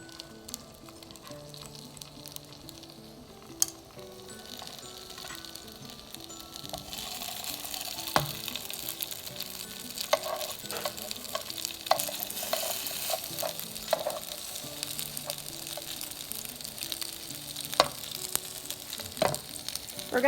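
Rice cakes frying in oil in a pan, a steady sizzle that builds and crackles, with occasional clinks and scrapes of stirring.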